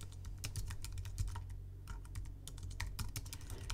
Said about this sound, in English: So I'm going to type in computer science